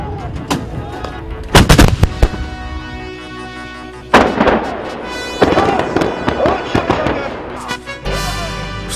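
Japanese military field artillery howitzers fire a series of heavy booming shots, loud and irregularly spaced, each blast followed by a rumbling decay.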